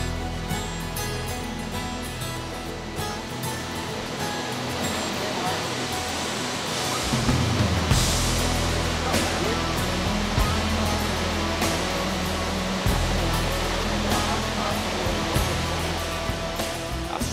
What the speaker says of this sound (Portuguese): As que têm caído por aqui contribuíram para o espetáculo dessas águas, que se lançam paredão abaixo. São 120 metros de altura